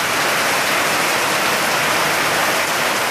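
Heavy rain pours steadily in Jamaica, a dense, continuous hiss of water drumming on surfaces close by, loud and unbroken with no voices.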